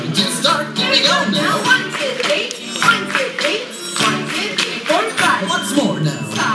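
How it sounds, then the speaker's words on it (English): A group of children and adults at an indoor kids' club clap along in a steady beat with music playing underneath, the claps bright and even, mixed with a voice calling out over them. "Now it's going to be your turn to try the clapping part."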